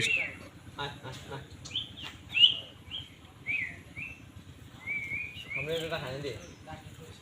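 A common myna gives a series of sharp, bright chirps and squawks at intervals, while people talk nearby.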